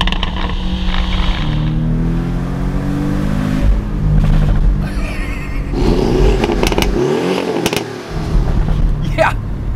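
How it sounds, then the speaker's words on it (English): Porsche 718 Boxster S engine with sports exhaust, heard with the top down, its loud engine note rising and falling through revs, with a voice talking over parts of it. "Combine the sports exhaust with the engine note though, drop the top, and now you have a very cool sports car soundtrack."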